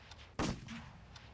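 A single sharp gunshot in the Roblox Squid Game video game cracks out midway, fairly close and loud against a faint, hissy game background, with softer distant pops around it.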